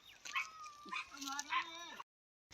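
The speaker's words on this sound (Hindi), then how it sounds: "ओ देखी कुत्ता है" A dog in a drain whimpers and whines in thin, wavering cries over about two seconds, fairly faint, with people talking nearby before a brief silence.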